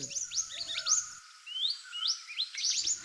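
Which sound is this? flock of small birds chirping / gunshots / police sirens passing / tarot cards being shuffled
flock of small birds chirping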